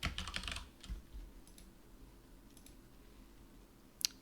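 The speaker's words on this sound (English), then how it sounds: "So we'll start typing Azure." Soft clicks of typing on a computer keyboard in a quiet room, a brief burst of keystrokes followed by a few scattered, faint taps.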